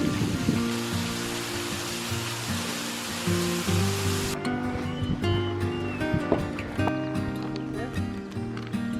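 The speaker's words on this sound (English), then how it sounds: "Putting some water on my roof." Water splashed onto a tent roof at a campsite along the Pennine Way makes a dense, close hissing patter for about four seconds, then stops. Tonal music continues afterward.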